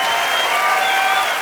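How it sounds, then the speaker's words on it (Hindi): A short burst of enthusiastic audience clapping at a stage event, dense and steady throughout. "इनके लिए जोरदार तालियां।"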